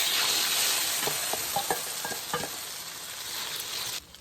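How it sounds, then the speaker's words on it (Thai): Cha-om acacia leaves frying with egg in hot oil, giving a continuous loud sizzle with light crackles and a few soft stirring taps, ending with a sudden drop at the close. "จะมาทอดชะอม ใส่ไข่นะเจ้า"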